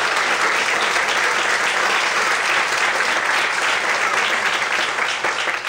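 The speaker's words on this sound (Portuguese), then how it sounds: "Você pode aplaudir a Deus por isso." A church congregation applauding to God during a sermon, a loud, dense and continuous wash of many hands clapping that holds steady for several seconds with no voices over it.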